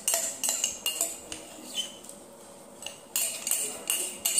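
A spoon scrapes and clinks against a tea cup while scooping settled sugar from the bottom. It gives bright, repeated metallic taps in irregular bursts, close and clear, with a quieter pause in the middle.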